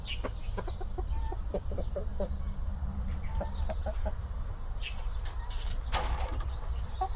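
Chickens in a backyard coop give scattered soft clucks and short calls over a steady low rumble, with one sharper squawk near the end.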